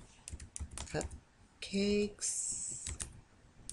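Typing on a computer keyboard in Arial with a type tool in a design program: a quick run of close, crisp key clicks in uneven bursts, with a person speaking over part of it.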